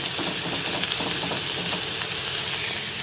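Tomato with ginger, garlic and green chili sizzles steadily in a pan for prawn rice. It is a constant, even frying hiss from start to finish, with no voices.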